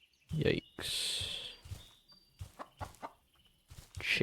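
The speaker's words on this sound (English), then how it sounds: "Chicken." A chicken in a Minecraft-style modpack game clucks in several short, close bursts separated by brief gaps, alongside other sharp game noises.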